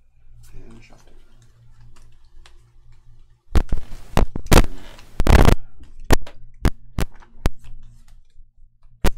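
A deck of game cards for a pirate-themed tabletop adventure game is shuffled close by: a dense flurry of riffling, then a string of sharp single snaps and taps spaced a second or so apart, after brief talk at the start.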